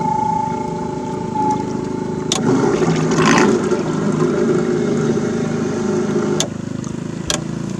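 An electric trolling motor with 18 pounds of thrust runs in high gear on a homemade pontoon boat, a steady, close whine and hum over water with a few sharp knocks.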